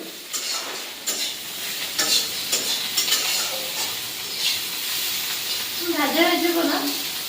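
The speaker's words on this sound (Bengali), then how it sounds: "মেয়ে মাছ ভাজা করছে" Fish frying in a pan over a traditional clay stove gives a steady close sizzle with scraping and stirring clicks, and a voice joins briefly near the end.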